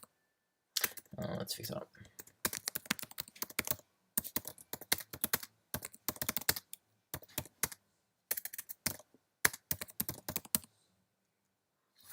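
Fast bursts of typing on a computer keyboard, close and crisp clicking in uneven runs separated by short pauses, with a brief spoken remark near the start.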